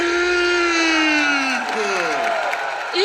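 Crowd in Lille cheers and applauds cycling champion Julien Alaphilippe at a Tour de France presentation, a steady roar of voices and clapping under a loud announcer talking throughout.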